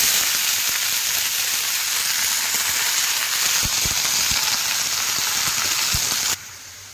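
Onion, garlic and leafy greens sizzle steadily in a hot pan, a dense continuous frying hiss with scattered soft pops, close and fairly loud, dropping suddenly in level near the end.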